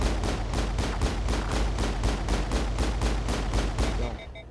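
Rapid enemy gunfire in the Mass Effect video game during a Geth attack on Feros, a loud sustained automatic burst of evenly spaced shots that cuts off just before the end.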